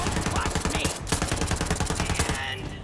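Rapid automatic gunfire in Borderlands 3, a dense loud stream of shots with a brief break before resuming, then tapering into softer game noise.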